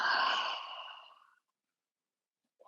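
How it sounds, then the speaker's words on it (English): A person exhales through the mouth in one slow audible sigh that fades over about a second, then goes silent and ends in a faint start of the next breath. "Take a slow breath in, filling up your belly and your ribs, and then exhale through your mouth."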